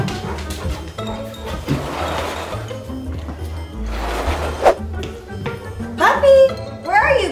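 A small puppy gives short yips and barks in scattered bursts, close and fairly loud, mixed with clinks and other toy-play sounds, and a voice speaks intermittently.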